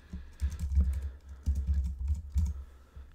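Keystrokes on a computer keyboard tapped in three quick bursts of close, clattering typing separated by short pauses, with no speech.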